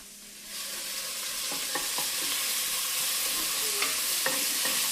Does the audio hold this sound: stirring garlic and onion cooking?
yes